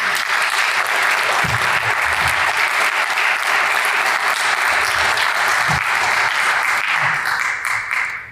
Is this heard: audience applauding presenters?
yes